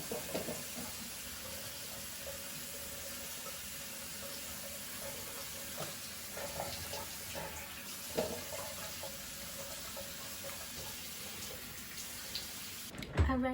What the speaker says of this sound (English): go ahead and wash my face. Wash with Cetaphil fragrance free soap.